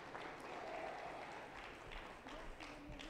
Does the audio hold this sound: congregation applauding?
yes